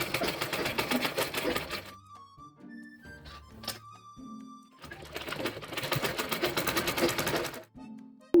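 A sewing machine stitches a chudidar side seam in two fast rattling bursts, separated by a quiet pause with small clicks and handling of the fabric, and no talking.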